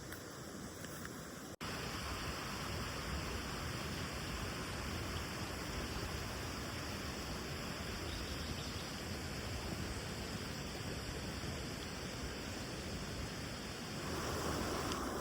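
Steady rushing water from a stream at the Ohiya camping site in Sri Lanka, a constant dense broadband wash close by, with a brief dip early on and no voices.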